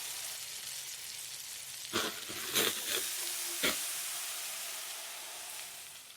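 A sous vide steak searing over hot coals, a steady close hiss and sizzle with a few louder bursts of crackle as the meat is moved, no talk.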